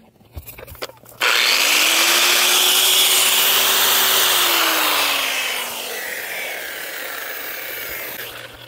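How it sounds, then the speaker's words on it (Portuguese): An electric 110-volt sander whirs up loudly and runs with a harsh, steady grinding roar, easing slightly in pitch before continuing; no talking. "Vou mostrar para vocês, é uma lixadeira 110 volts."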